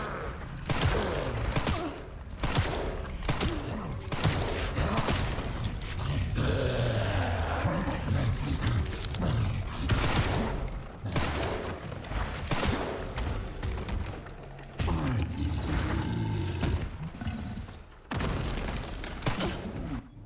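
Gunshots fired at enemies in the horror game Resident Evil Requiem, a string of loud sharp shots spread across the clip, mixed with thuds, growls and other in-game noise.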